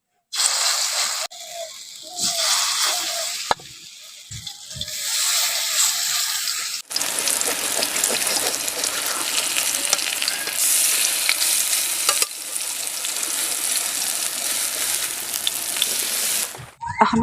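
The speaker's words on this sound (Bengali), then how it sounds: "ওই তেলের মধ্যে বাকিগুলো ভেজে নিচ্ছি এখন" Banana-flower and prawn koftas frying in oil give a steady, bright sizzle, broken at first by short gaps as pieces go in, then settling into continuous close crackling with no talk.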